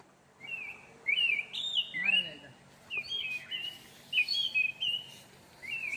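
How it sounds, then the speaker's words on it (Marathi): Birds sing in repeated high, clear whistling phrases against a quiet outdoor background, with a brief lower chirp partway through. "हा पक्ष्यांचा आवाज एक स्पष्ट येतोय"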